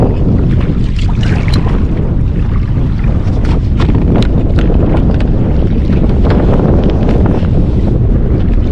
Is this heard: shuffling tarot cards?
no